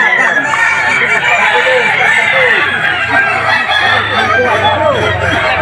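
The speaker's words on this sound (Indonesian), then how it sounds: "setiap ayam sudah menunjukkan kemampuan terbaiknya dengan kokok yang khas dan penuh karakter" Kukuak balenggek roosters crow repeatedly at a singing competition, their long warbling calls overlapping loudly and continuously against a busy crowded arena background.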